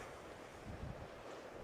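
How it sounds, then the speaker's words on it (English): Ocean waves crash in beneath coastal sea defences, a steady roar of surf with wind buffeting the microphone, continuous and fairly loud with no voices. "all the waves are crashing in underneath the coastal defences where they're not supposed to be"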